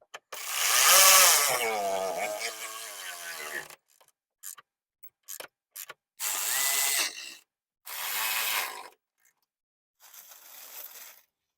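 Headlight bolts on a 2007-2011 Toyota Camry are driven in with a power tool, giving several close, whirring bursts of uneven length separated by short pauses.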